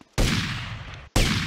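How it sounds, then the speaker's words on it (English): Gunfire during a police shootout in the game GTA Vice City: two loud, close bursts of fire, the first lasting about a second, the second starting after a brief drop. "I'm in a shootout with the cops"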